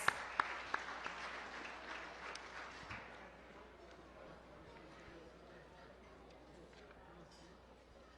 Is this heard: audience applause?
yes